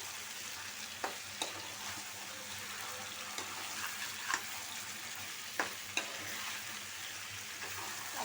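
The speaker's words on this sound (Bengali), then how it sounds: "দু তিন মিনিট কষায় নিব কষায় তারপর পানি অ্যাড করবো" Chicken and potatoes stir-fry in a pan with cooked spice masala, a constant soft sizzle punctuated by sharp scrapes and taps of a spatula stirring at irregular moments.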